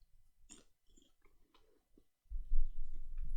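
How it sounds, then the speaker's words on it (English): A person chews up close with wet, smacking bites and soft breathing, following a stretch of quiet mouth clicks. "I hate listening to people chew."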